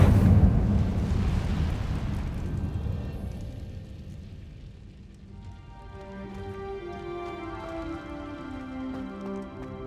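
An Incendio fire spell in Hogwarts Legacy erupts with a loud roaring whoosh that crackles and fades over several seconds, followed by a lingering shimmering magical tone.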